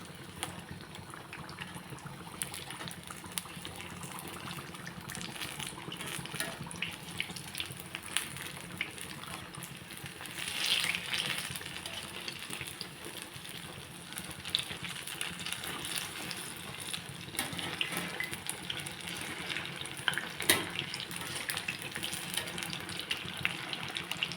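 Kerala banana fritters (pazham pori) frying in oil, heard as a steady, dense hiss and bubble that continues evenly throughout with faint crackles and no talking.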